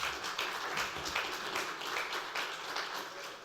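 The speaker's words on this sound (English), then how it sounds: "I think he deserves an applause for this" Steady applause from a workshop audience at an internet governance forum session on cyber security, a dense wash of many hands clapping at moderate distance, fairly quiet and continuous with no talk over it.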